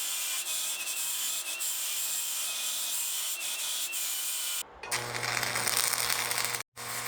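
A grinder fitted with a flap disc smooths a steel edge on a fabricated garage fan mounting bracket, giving a steady, loud abrasive whir that runs continuously, with a change in tone partway through and a brief break near the end.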